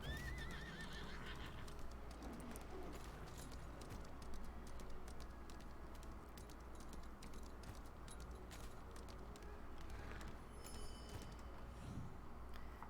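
A horse in the video game Lost Ark neighs once near the start, then its hooves clip-clop in a steady galloping rhythm over quiet game ambience, with a few faint clicks.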